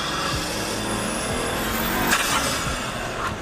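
An AMG V12 car engine sounds faintly from a distance, a low steady rumble with a slight rise in intensity partway through.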